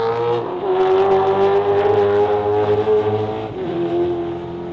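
Plymouth Duster race car in a 2021 Australian TransAm race, its V8 engine holding a loud sustained roar with a slight pitch drop and shift partway through, close and continuous with no voices.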